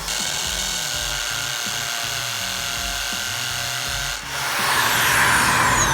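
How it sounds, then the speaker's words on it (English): A DeWalt hammer drill bores into concrete in an underground bunker, a loud steady grinding rattle with rhythmic hammering pulses that briefly dips then surges harsher near the end. "so this is a hammer drill so we can get into this concrete"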